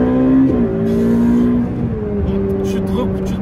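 A Ferrari 488 Pista accelerates hard, its loud engine note climbing and then dropping abruptly at each aggressive gear shift, heard from inside the car with a voice talking over it.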